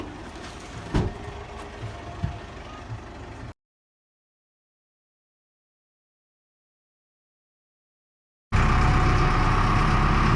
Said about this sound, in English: We have an engine going.